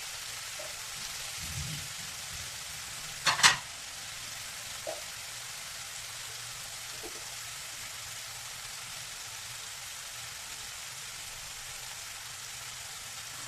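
Tomatoes cook in a pan for tomato rice, giving a soft, steady sizzle throughout, broken by one sharp clatter of a stirring utensil against the pan and a couple of fainter taps.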